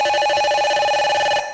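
A telephone rings in a steady electronic trill at a doctor's office, loud and close, continuous with no talk, cutting off abruptly near the end.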